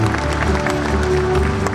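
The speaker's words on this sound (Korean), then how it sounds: "큰 박수 부탁드리겠습니다" An audience at a ceremony applauds an arriving guest, a short burst of crowd clapping heard alongside a sustained musical tone in a large hall.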